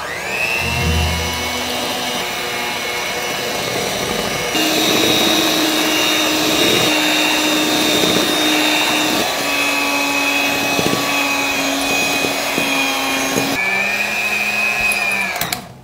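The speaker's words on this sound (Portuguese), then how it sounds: "Agora eu venho aqui com a batedeira e vou começar a bater até ele ficar bem cremoso." An electric hand mixer whirs continuously and loudly while whipping creamy coffee, its pitch shifting as the beaters work the mixture, with no talk.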